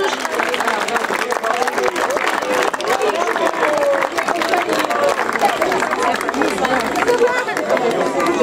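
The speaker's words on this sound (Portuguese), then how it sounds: "Uma grande salva de palmas para estes alunos." An audience applauds award-winning students at a school-year opening ceremony in Mangualde, Portugal. The clapping is dense and sustained throughout, mixed with crowd chatter.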